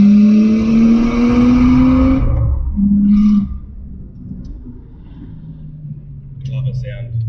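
An RB25DET-swapped Nissan R32 Skyline engine revs hard through an acceleration pull, its pitch climbing steadily, then a quick gear change and another rising rev before settling into a low rumble.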